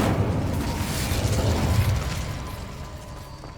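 A fire spell is cast in the Hogwarts Legacy video game, giving a loud, sustained whooshing roar that swells and then slowly fades, with no talk over it.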